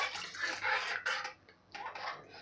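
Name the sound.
hot water being poured into udid dal amti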